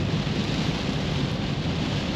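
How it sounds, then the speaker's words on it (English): Steady, dense rain pours down during a passing shower in St Maarten, a constant broadband wash with low rumbling underneath that may be distant thunder, with no voices. "We hit the rain."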